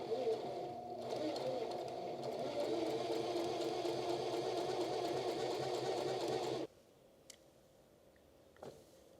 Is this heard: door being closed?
no